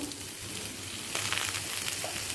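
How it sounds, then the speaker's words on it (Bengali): Pointed gourd fries on high flame in a pan, a steady soft sizzle with a faint clink near the end. "পটলটা হাই ফ্লেমে দু মিনিট ভাজা হয়ে গেছে"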